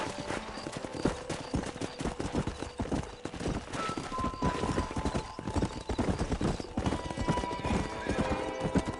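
Horse hooves clip-clop steadily with repeated neighing and whinnying in the Red Dead Redemption video game, a busy, loud mix of hoofbeats and horse calls, with faint voices underneath.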